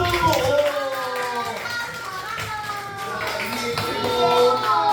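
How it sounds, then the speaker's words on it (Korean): Clapping from a small group at a children's taekwondo school entrance ceremony, steady and moderately loud, mixed with children's voices and cheerful chatter throughout. "박수!"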